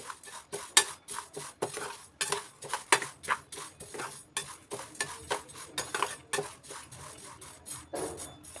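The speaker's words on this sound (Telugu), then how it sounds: "మాడిపోకుండా మంచిగా కలుపుకుంటూ లో ఫ్లేమ్లో పెట్టుకొని" A sunnunda mixture is stirred in a pan over a low flame, with rhythmic scraping and rasping strokes of a utensil against the metal, close and repeated at an even pace.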